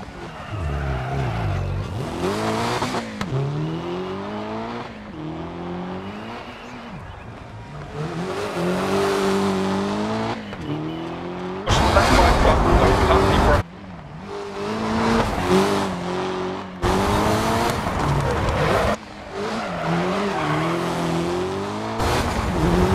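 Peugeot T16 rally car in the racing game Dirt Rally, engine revving up and down through gear changes with bursts of loud gravel and tire noise, continuous and close.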